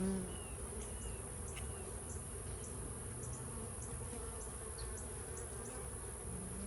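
Honey bees around a nuc taken off a tree make a constant, dense outdoor buzz, with individual bees whizzing past the microphone now and then.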